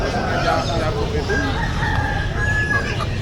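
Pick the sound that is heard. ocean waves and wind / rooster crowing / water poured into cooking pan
rooster crowing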